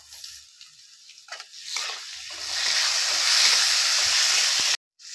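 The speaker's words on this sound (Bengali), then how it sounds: "এবারে এর মধ্যে দিয়ে দেবো আমি দুটো মাঝারি সাইজের টমেটো কেটে রেখেছিলাম তো এটাও মিশিয়ে দেবো" Two medium chopped tomatoes go into semolina dry-roasting in a pan without oil. A few soft stirring scrapes build into a steady, close sizzle that continues until it cuts off abruptly near the end.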